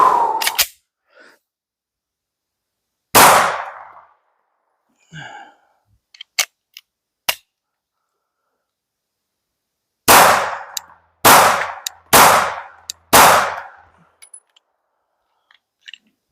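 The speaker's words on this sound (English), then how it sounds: "let's see how this bad boy runs with a few rounds downrange on an OEM Glock" Several pistol shots from a stock Glock 19 fitted with a cheap eBay flush-fit barrel, fired outdoors in sharp, loud reports: a couple of isolated shots early, then a quick string of four near the end, with small clinks between.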